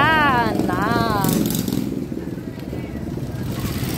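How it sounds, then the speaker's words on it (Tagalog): A motorcycle passes on a provincial road, its engine rising and fading over steady road noise, while a voice briefly sounds early on. "Kung makikita nyo yung motor, ano yan, yung namamasahiro."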